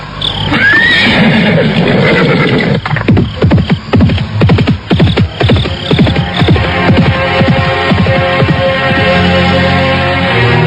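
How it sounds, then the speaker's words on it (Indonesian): A horse whinnies briefly, then hooves pound in a fast, rhythmic gallop on a stony road, loud and close, echoing off surrounding hills, continuing steadily to the end. "Suara kakinya yang menderap di atas jalanan berbatu bergema dipantulkan oleh bukit-bukit di sekitarnya."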